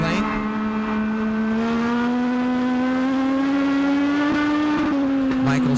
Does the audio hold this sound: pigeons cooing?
no